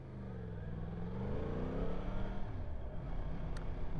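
A 2023 Yamaha R1 sport bike engine revs and climbs, its rising growl sweeping upward and holding loud and close for several seconds, rough and throbbing near the end.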